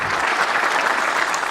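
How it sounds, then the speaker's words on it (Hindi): An audience claps at a Hindi comic poetry show: dense, steady applause close by, filling the whole moment without talk. "ताली बजा दीजिए एक बार"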